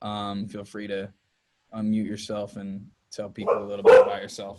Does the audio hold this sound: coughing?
no